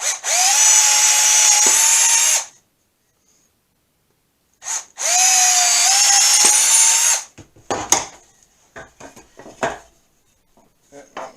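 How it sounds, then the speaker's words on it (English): A power drill bores holes in a piece for a portable band saw stand, running in two long high-pitched whining bursts with a pause between, then followed by scattered clatters and clinks of tools being handled. "you want to drill a couple holes"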